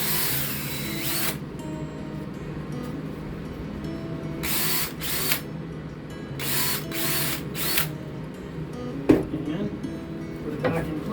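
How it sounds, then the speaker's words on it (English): Power drill boring screw holes through boards for a couch build inside a bus conversion, several short loud whirring bursts separated by pauses, with a sharp clunk near the end and quiet handling noise between. "So then I drill them out all the way for the screws in the top."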